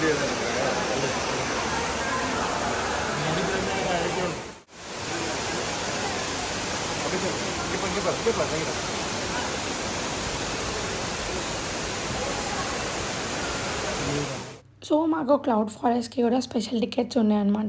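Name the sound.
waterfall water sound at Cloud Forest, Singapore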